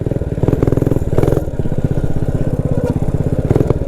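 A Motovox minibike powered by a Predator 212 engine runs steadily close by, its loud, even engine chug holding a fast rhythmic pulse with slight swells in revs throughout.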